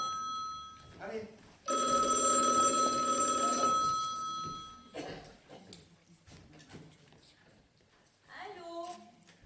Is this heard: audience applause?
no